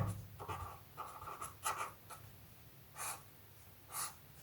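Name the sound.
writing on a board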